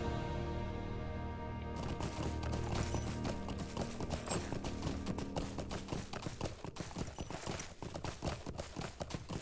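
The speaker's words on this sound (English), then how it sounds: "there's one of the missing horses" Horse hooves clip-clopping at a steady trot in the Lord of the Rings Online video game, a dense rhythmic run of hoofbeats over game music, continuing close and fairly loud throughout.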